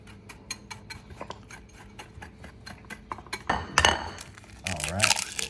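A utensil mixes Italian breadcrumbs with cayenne pepper in a bowl, giving a rapid run of light clinks and scrapes that swells into louder rustling, stirring scrapes toward the end, close up.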